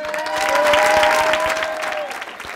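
An audience applauds for Nacer Zorgani, a burst of many hands clapping that swells quickly and then tapers off, with a faint tone running through it.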